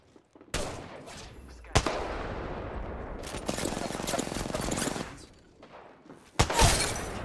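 Kraber sniper rifle fire in a video game: several loud, sharp cracks with a heavy, shattering tail, mixed with busy game noise and faint talk in the background.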